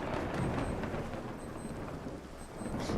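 Thunder rolls through a Minecraft storm, a broad low rumble that swells near the start and again at the end over a constant hiss of falling rain, with no talk.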